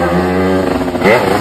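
A motorcycle revs and clatters close by along a narrow road, its engine drone steady then shifting pitch as it moves past, with no voices over it.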